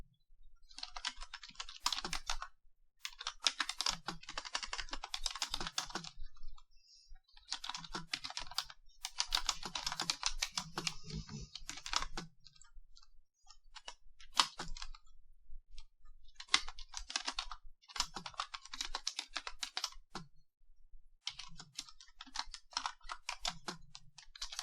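Rapid typing on a computer keyboard, with dense bursts of key clicks separated by short pauses, close and clear, with no talking.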